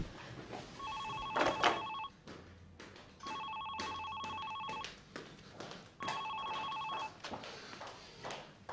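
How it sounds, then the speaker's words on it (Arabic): A telephone bell rings indoors in three separate bursts, each lasting roughly a second or more with short gaps between them. It stands alone at a moderate level, with faint room noise underneath and no talking. "يبدو دقنا تليفون بهالوقت خير ولي الله يستر."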